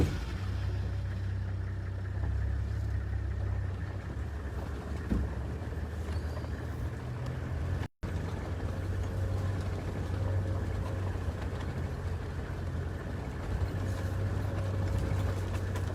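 A safari vehicle drives into a valley, a steady low engine drone with road rumble that continues almost without a break and drops out for an instant partway through.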